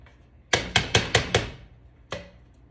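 A sharp knife chopping onions on a board, five quick, evenly spaced crisp thuds up close, then a pause and one more chop.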